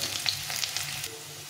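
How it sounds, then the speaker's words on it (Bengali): Potato pieces frying in a pan of hot oil, a steady close sizzle with soft crackles and small pops running alone throughout. "এই আলুটাকে একদম ভালো করে লাল লাল করে ভেজে নিতে হবে, এই জন্য প্রথমে আলুটাকে ভেজে নিচ্ছি।"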